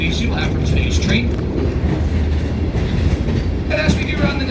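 Tourist train on the Leadville and Colorado Southern route rolling slowly along the track, with a steady rumble and rhythmic clickety-clack of wheels on rails throughout, close and loud, with occasional higher squeals.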